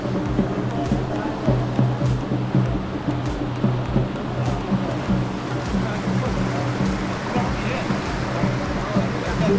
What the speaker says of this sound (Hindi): ये जो नदी है ये अलकनंदा है